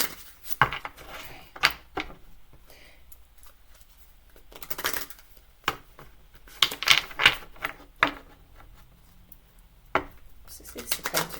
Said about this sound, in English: Just concentrate on my shuffling a bit more.